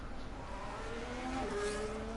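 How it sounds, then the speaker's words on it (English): Formula race cars in a racing video game pull back out onto the Austrian track for a second qualifying session, a steady layered engine drone with faint tyre noise running through the clip, with no voices over it. "now you can see the cars coming back out on track"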